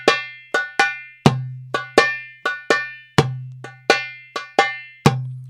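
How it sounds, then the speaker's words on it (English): Darbuka playing the Malfuf 2 rhythm, with quick light ka strokes just before the deep, booming tek strikes, forming a steady syncopated pattern of bright taps and resonant hits, close and alone. "Malfuf 2 uses a ka"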